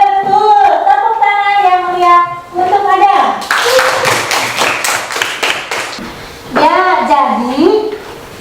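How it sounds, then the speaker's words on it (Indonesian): A classroom group claps for a pupil named Ada, a brief burst of brisk applause lasting a few seconds between stretches of a teacher's speech. "Tepuk tangan yang mulia untuk Ada."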